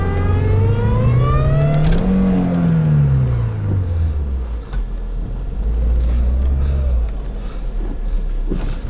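An off-road car reversing in deep snow revs its engine hard, the pitch swooping up and falling away in loud surges before settling into a lower, steady strain.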